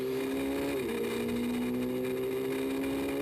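Engine of Sebastian Carroll's rally car on snow tyres during a European Rally Championship stage, a loud steady roar with one quick shift in pitch as it passes close by.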